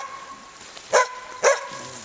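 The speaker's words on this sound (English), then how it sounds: "Wonderful dog." Two short, sharp barks from a male Norwegian Elkhound outdoors on a hike, spaced about half a second apart over a steady background hum, moderately close.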